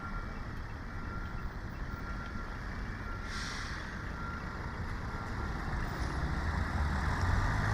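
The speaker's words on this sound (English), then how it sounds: "there is a lot of traffic noise" Road traffic rumbles steadily near the Port of Southampton, a dense, continuous drone of trucks and cars with a brief hiss partway through, growing slightly louder toward the end.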